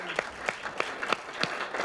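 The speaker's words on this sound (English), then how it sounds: "Let's give Shaz a round of applause." A small audience gives Shaz a brief round of applause: a handful of sharp, sparse claps, fairly close and moderately quiet, with no voices.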